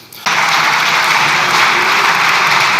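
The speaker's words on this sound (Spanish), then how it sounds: "Tienen que aplaudirle para levantarle el ánimo, señoría" Sustained applause filling the chamber of the Spanish parliament, a dense steady clatter of many hands that bursts in after a brief quieter moment and stays loud throughout.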